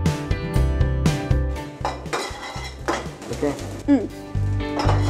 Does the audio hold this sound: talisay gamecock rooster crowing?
no